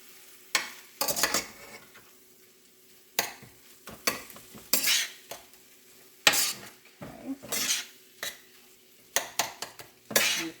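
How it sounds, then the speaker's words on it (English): Vegan taco meat with seasonings and onions is stirred in a pan, a spoon scraping and clattering in irregular close bursts over a light sizzle. "just put a little bit at a time to get your meat nice and mixed with your seasonings"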